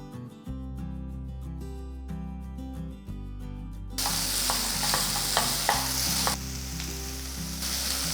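Onion, capsicum and green peas sautéing in a pan for paneer bhurji, a steady sizzle with occasional stirring scrapes, heard under background music that carries on throughout.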